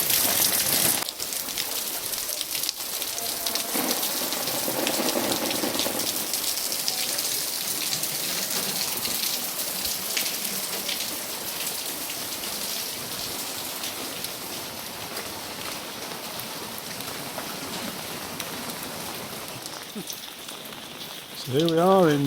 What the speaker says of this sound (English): and just for change, it's raining.